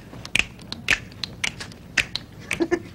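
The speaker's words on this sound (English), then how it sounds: "Snap your fingers." Crisp finger snaps repeat in an uneven rhythm, about a dozen sharp clicks close by, with a few soft taps between them and no talking.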